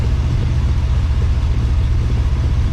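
A freshly rebuilt 1965 Ford Mustang engine runs with a steady, loud, deep rumble and a fast pulsing throb, held at a constant pace close by with no voices.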